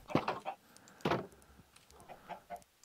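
Chickens in Minecraft (Java 1.17.1) let out short bursts of clucking, a couple of louder clucks followed by softer ones, close and clear with no talking.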